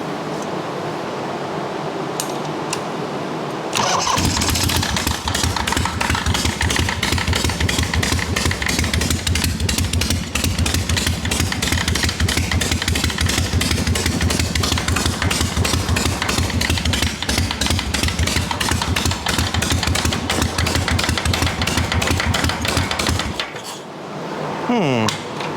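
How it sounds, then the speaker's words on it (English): XLCH Harley chopper engine running with its kicker gear dragging, a loud steady rapid mechanical clatter and rattle over the exhaust rumble that continues for about twenty seconds before the engine cuts out. "Something's dragging on that kicker gear."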